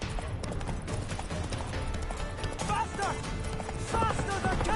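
Horse hooves clip-clopping steadily in The Witcher 3, with a few whinnies and snorts rising over the galloping rhythm, while a voice talks over the game sounds throughout.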